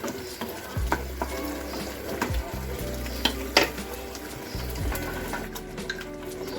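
Tomato masala for tomato rice fries in a pan over medium flame, sizzling steadily up close while a spatula scrapes and stirs in uneven strokes throughout.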